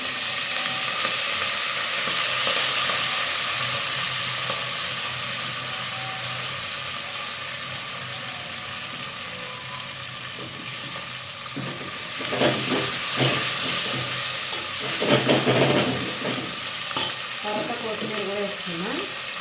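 Fenugreek leaves and tomato curry fry in a pan with a steady sizzling hiss, and louder scraping stirs break in toward the end.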